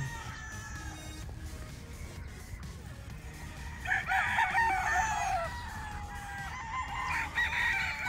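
A game fowl rooster, a talisayin on a gamefarm, crows repeatedly with bright, strained calls that rise and fall, one bird after another. Steady farm background noise runs underneath and no one speaks.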